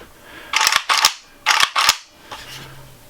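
Action of a Zastava ZPAP M70 underfolder rifle being racked, a tight cluster of sharp metallic clacks in two quick pairs followed by a softer mechanical rattle, close and crisp.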